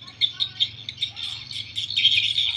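A swiftlet call recording, the SP Pangeran Sriwijaya track mixed with Akau 22 Birahi, plays as rapid, continuous high chirps and twitters, loud and close, layered over a low steady hum.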